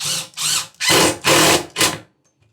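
A power drill drives screws to mount a grow light, five short whirring bursts in quick succession, close and fairly loud, then quiet.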